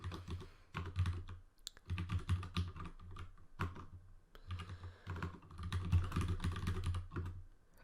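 Rapid typing on a computer keyboard, with close, crisp key clicks in uneven bursts separated by short pauses and no voices.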